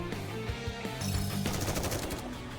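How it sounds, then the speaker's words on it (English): Rapid automatic gunfire in the Nikke video game, bursts of fast rattling shots over a busy game soundscape, fairly close and with no talking. "Oh, gunfire's going off."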